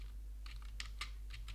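A computer keyboard being pressed for a Ctrl+V paste: a few quick, light key clicks in close succession over a faint steady electrical hum, with no voices.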